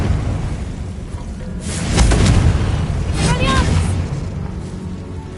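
Confringo blasting spell going off in the video game Hogwarts Legacy, a loud booming burst around two seconds with a second rumbling blast soon after, over a dense low game background.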